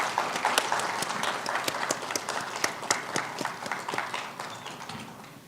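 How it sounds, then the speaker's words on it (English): Audience applause at a formal welcome ceremony for a telecom outreach event in Bangalore, steady dense clapping throughout at moderate distance with no speech over it. "Please give a huge round of applause."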